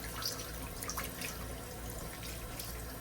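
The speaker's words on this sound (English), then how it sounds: "I always turn the water on low and I let it run cold." Cold tap water running on low into a kitchen sink to rinse tenderized cube steak, a steady soft splashing stream with faint drips, close and continuous with no talk.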